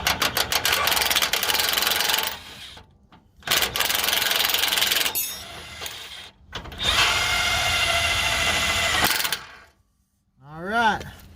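A 19mm-socketed impact wrench works on a front differential bolt of a 2002 Toyota Tundra 4x4, giving several loud, harsh sustained bursts with short gaps, followed by a brief faint squeal at the end.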